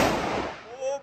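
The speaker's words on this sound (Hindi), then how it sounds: "तो गाइस अभी फोड़ रहे गंदक पटाखा" A sulfur (gandhak) firecracker bursts with a loud broadband blast that fades over about half a second, followed by a short tonal ringing.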